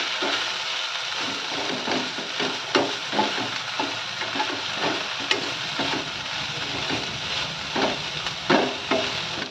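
Okra fry with chili powder being stirred in a pan: a continuous oily sizzle broken by repeated scraping, clacking strokes of a spatula against the pan, close up and with no talking.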